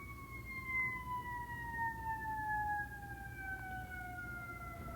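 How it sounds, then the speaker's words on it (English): An ambulance siren passing at a distance, a wailing tone sweeping slowly as it goes by, moderately loud over low traffic rumble. "See why an ambulance just went by."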